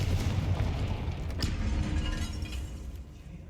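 Confringo blasting spell explosion in Hogwarts Legacy, a dense rumbling burst with crackling debris that slowly tails off.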